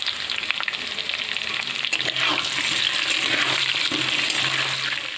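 Potatoes, peeled and seasoned with salt and turmeric, fry in a pan with a steady, close sizzle and bubbling crackle that swells slightly partway through, no voices present.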